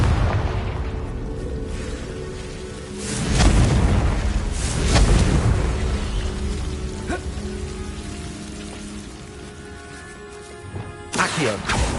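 Confringo blasting spell from Hogwarts Legacy, a booming explosive burst that swells into a rumbling roar and decays over several seconds, then a second sharp crackling blast near the end, loud against game ambience.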